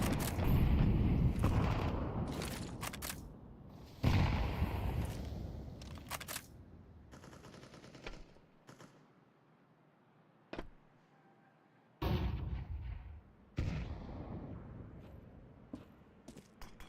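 Gunfire rings out during a competitive first-person shooter match, with loud bursts of shots in the first few seconds, then scattered single cracks and quieter stretches before more bursts near the end.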